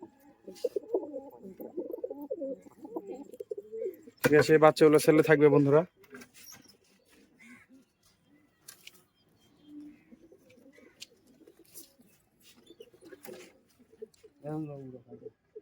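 Giribaz pigeons from Murshidabad, West Bengal, give a loud, throaty coo midway and a shorter one near the end, between stretches of someone talking nearby.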